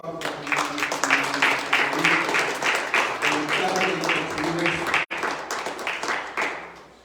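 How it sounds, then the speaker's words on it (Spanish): A church congregation gives strong applause, with dense clapping that pulses in a steady rhythm for several seconds. Voices and music murmur beneath it, and there is one brief dropout near the end. "Dale un fuerte aplauso."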